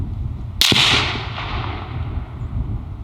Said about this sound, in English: I'm going to go ahead and shoot to confirm